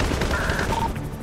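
Gunfire from a cartel gunboat in GTA 5 crackles in a quick, loud burst of overlapping shots, layered over game noise with a couple of brief tonal beeps.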